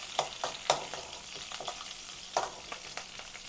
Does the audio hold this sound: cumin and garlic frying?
yes